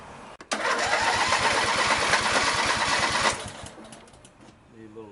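A small engine on a machine cranks and catches with the choke on, running at a loud, fast, even chug for about three seconds before dropping off into quieter sputters and clatter.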